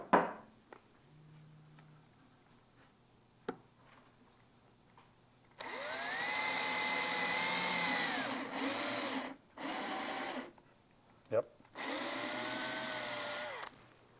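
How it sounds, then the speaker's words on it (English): Electric drill with a nail chucked in as the bit, boring a hole in wood for a birdhouse: loud, close whirring bursts that rise and fall in pitch, with short pauses and a few taps between. "Now use the nail to drill a hole right about there."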